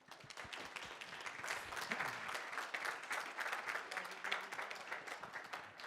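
A lecture audience gives a round of applause, moderately faint and spread out, with dense clapping that rises and lingers for several seconds amid some crowd murmur.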